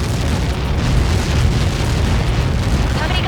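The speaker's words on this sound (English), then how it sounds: "How many got caught in that explosion?" A huge explosion impact in the Ace Combat 7 flight combat game, a sustained loud rumbling roar of blast noise that fills the whole stretch without a break.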